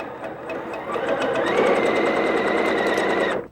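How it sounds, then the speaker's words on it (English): A sewing machine runs steadily through a seam, its motor whirring continuously for about two seconds at close range before stopping abruptly; a quiet start-up hum precedes the main run, and no one speaks. "Using the edge of the foot as our guide, we just sew the seam"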